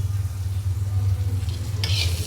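Brinjal and pointed gourd shallow-frying in a pan, a steady sizzle over a low humming rumble from the stove, with a brief bright scrape of stirring near the end and no talking.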